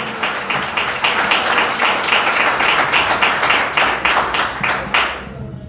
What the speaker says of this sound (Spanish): Si lo va a aplaudir, apláudalo como Él se lo merece.